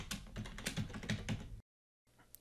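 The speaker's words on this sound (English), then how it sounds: "then typing the password" Someone types a password on a computer keyboard during a Windows Server 2019 install in VirtualBox: a quick run of close, crisp key clicks, then a brief pause and a few more soft taps.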